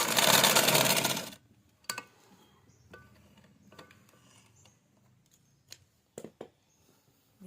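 A sewing machine stitches the side seam of a casual shirt, running in one steady, loud burst for just over a second before stopping, followed by sparse light clicks and handling taps.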